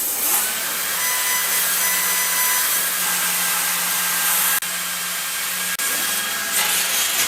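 Laser cutter working with a compressed-air assist through a rubber hose, producing a loud, steady hissing rush with a low hum beneath, broken by two brief dropouts.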